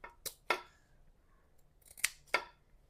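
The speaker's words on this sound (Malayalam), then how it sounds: "ഇപ്പോൾ കത്രിക ഉണ്ടെങ്കിൽ മുള്ളു വെട്ടാൻ എളുപ്പമാട്ടാ" Scissors snip through fish fins four times close by, sharp crisp cuts in two quick pairs, with quiet pauses between.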